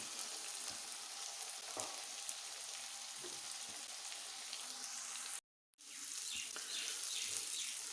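Goat brain frying in a spiced masala, a steady close sizzle with crackling pops that cuts out briefly to silence before the frying resumes.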